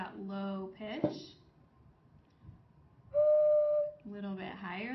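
A medium-sized clay whistle gives a single steady, higher-pitched note lasting under a second, clear and close, with a voice talking before and after it.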